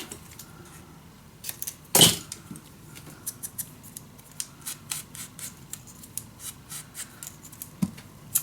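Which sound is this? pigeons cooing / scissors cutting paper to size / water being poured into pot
scissors cutting paper to size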